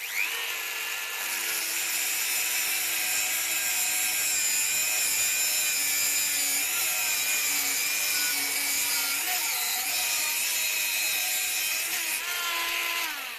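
A Dremel rotary engraver cuts a workpiece clamped in a vise, giving a steady, loud, high-pitched grinding whine that holds for the whole stretch and wavers slightly as the tool bites.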